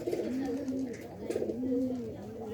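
A red pigeon at a house coos nearby in two repeated, rolling phrases, a warm low throaty call that rises and falls with faint background noise.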